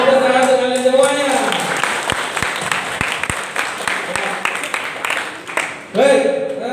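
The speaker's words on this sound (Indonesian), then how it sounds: "Tepuk tangan untuk kalian semuanya" Students in a classroom burst into a short round of clapping between stretches of a man's speech, the hand claps scattered and sharp in the middle before his voice returns.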